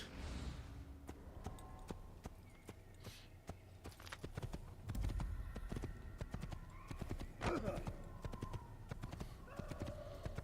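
A horse gallops in the Assassin's Creed video game, rapid rhythmic hoofbeats close by with a brief whinny and scattered game sounds, played fairly quietly without talking.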